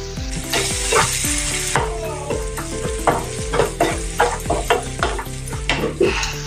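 A spatula scrapes and knocks rhythmically through paneer khurchan in a pan with red chilli powder and garam masala, giving repeated close strokes over a steady frying sizzle.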